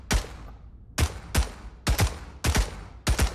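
German rifles firing in Hell Let Loose, played in the Pavlov VR game, give six separate loud, sharp gunshots at uneven intervals with short echoing tails and no speech.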